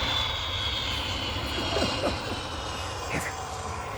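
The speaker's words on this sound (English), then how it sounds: "This complex is right under one of London Airport's flight paths." A jet aircraft passes overhead near London Airport under a flight path, a loud, steady engine roar that fills the whole stretch with a slight swell in the middle, with no talk over it.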